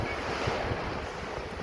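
Wind and rough sea waves recorded on a Realme 12 Plus smartphone, a steady loud roar of surf churning with heavy wind buffeting the microphone throughout, no voices.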